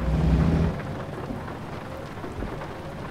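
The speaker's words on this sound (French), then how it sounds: "C'est bien d'avoir de la pluie au moins sur votre ordinateur." A low rumble of thunder rolls out at the start over steady, hissing rainfall that continues evenly afterward, in the video game American Truck Simulator.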